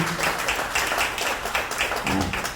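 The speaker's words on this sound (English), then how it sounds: "Let's give her another round of applause" An audience at a public event applauding, a steady wash of clapping from a crowd that fills the whole moment without talk.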